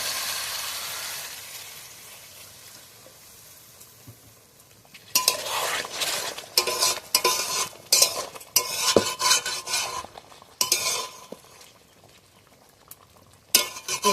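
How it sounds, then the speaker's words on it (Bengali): A little water splashed into a pan of frying potatoes for aloo dum with tomato, a low quiet sizzle swelling about a third of the way in to loud, crackling bursts of sputtering that rise and fall close by. "এবার আমি একটু জল দিয়ে দেবো অল্প করে।"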